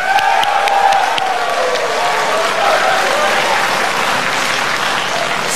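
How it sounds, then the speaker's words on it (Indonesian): Loud, dense audience applause at an Indonesian presidential and vice-presidential candidate debate, a large crowd clapping continuously for several seconds, slowly easing in intensity. "Kita berikan tepuk tangan."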